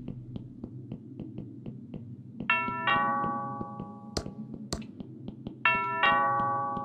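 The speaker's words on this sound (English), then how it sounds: "That sounds like the doorbell." A doorbell in the video game Thimbleweed Park rings twice as clear two-tone ding-dong chimes, each ringing out over soft background game ambience and light tapping.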